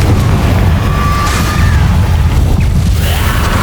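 A loud, sustained blast from the Confringo spell in Hogwarts Legacy, a heavy rumbling burst with crackling debris that stays forceful throughout the moment.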